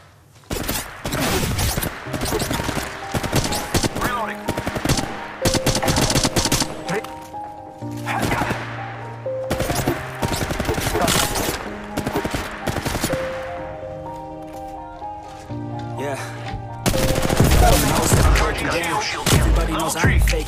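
Gunfire in the mobile shooter game Apex Legends Mobile: loud, dense bursts of rapid automatic fire come in long stretches with short gaps, over a steady background layer of game sound and occasional voices.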